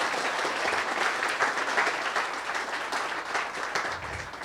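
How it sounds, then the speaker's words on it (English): An audience at an outdoor-themed keynote event breaks into sustained applause, a dense, even clatter of many hands filling the room. "Can we give her one more round of applause?"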